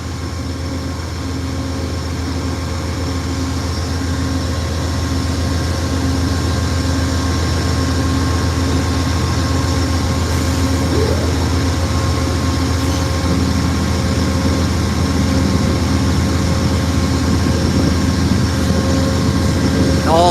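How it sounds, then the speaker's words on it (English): Amtrak P-42 diesel locomotives idle at a station stop in Ottumwa, Iowa, giving a steady, loud low rumble that holds evenly throughout with faint tonal hums above it. "I could stand here next to one of these idling P-42s for hours."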